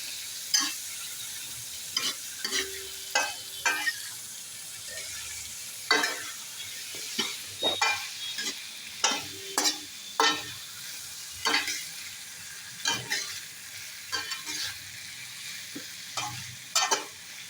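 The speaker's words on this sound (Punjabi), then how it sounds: "ਇਸ ਤਰ੍ਹਾਂ ਮਿਕਸ ਕਰ ਦਾਂਗੇ ਮਸਾਲੇ ਦੇ ਨਾਲ ਇਹਨੂੰ" Vegetables tossed with spices in a pan give repeated scraping stirs of a spoon against the metal, a rhythmic series of clicks and scrapes over a soft background sizzle, close and fairly quiet.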